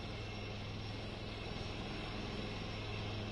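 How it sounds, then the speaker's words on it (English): Steady engine and rotor drone of a light combat helicopter in flight on its maiden flight, a continuous even roar heard alone at low level. "Akash, as the Raksha Mantri all set to take that maiden flight in the light combat helicopter"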